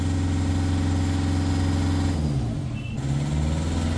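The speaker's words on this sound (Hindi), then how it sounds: "बस करो, अब इंजन फाड़ोगे क्या?" A Hyundai Creta engine revs hard and steadily during DPF cleaning, with a strong low drone that briefly dips and wavers near the end before holding again; loud, close, with no talking.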